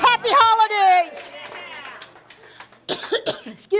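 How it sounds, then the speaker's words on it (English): A woman leading a church service gives a couple of sharp coughs close to the microphone, followed by brief speech. "now I got a cough."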